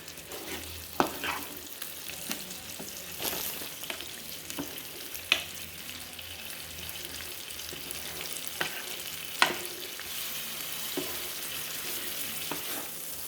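Thai-style lemongrass mussels cooking fast in a hot pan, a continuous close sizzle broken by occasional sharp clicks and clacks of stirring, no voices.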